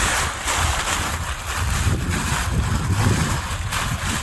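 Wind blows steadily while a paragliding wing is kited on the ground, a continuous loud gusty rush across the microphone with rustling, rising and falling in waves.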